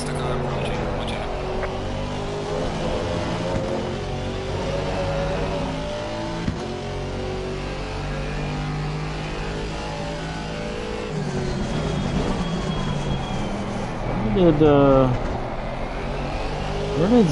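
Race car engines in Assetto Corsa Competizione drone and rev steadily throughout during a GT3/GT4 multiclass race at Valencia, with a louder rising whine near the end, while people talk over the engine noise.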